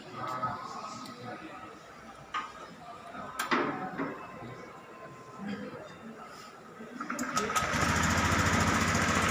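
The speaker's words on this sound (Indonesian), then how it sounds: "kemudian kita hidupkan lagi sepeda motornya" An automatic scooter's engine is started after an oil change, its running noise rising and holding steady near the end, while people speak over quieter shop sounds before it.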